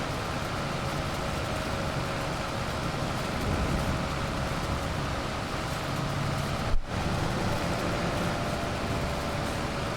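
Steady broadband hiss of rain falling in the Farming Simulator 25 video game, a constant even wash with no breaks, interrupted only by one brief dropout near the end.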